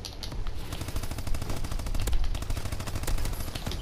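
Dense, rapid automatic gunfire from the futuristic exo-suit combat video game Call of Duty, rattling almost continuously with overlapping shots, loud and close throughout.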